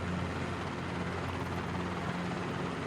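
Robinson R22 helicopter in Microsoft Flight Simulator with the collective lowered, giving a steady, dense rotor and engine drone with a low hum underneath, constant and close throughout.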